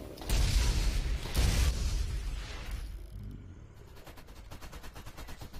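Automatic turrets in the video game Borderlands fire in loud bursts, with heavy booming blasts early on, then a rapid, steady rattle of shots that keeps going to the end.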